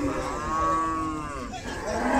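A large dairy cow at the Satmile cattle market in Jessore lets out a single long, loud, close moo that tapers off near the end.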